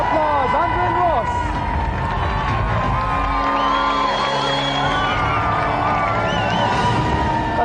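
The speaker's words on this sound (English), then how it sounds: "let's have another round of applause." A TV game-show studio audience applauds loudly, with dense clapping, whoops and cheers that hold steady throughout. A voice carries over the crowd.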